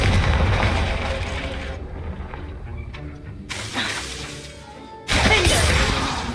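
Confringo fire spell blasting in Hogwarts Legacy: a loud crash-like explosion opens, fades through scattered impacts, then a second powerful burst erupts near the end.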